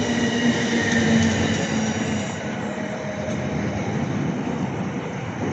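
A Class 455 electric train running at Clapham Junction, heard as a steady, loud rumble of wheels and motors that eases slightly after the first couple of seconds, with no talking.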